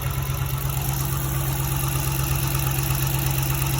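A 2011–2014 Dodge Charger R/T engine idles steadily while its cooling system is being burped, a close, even low hum with a constant drone and no voices.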